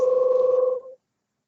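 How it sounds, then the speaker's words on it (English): A phone rings from an unmuted participant during an online mathematics lecture, giving one steady two-tone electronic ring that lasts under a second and then cuts off to silence. "there's a phone ringing somewhere."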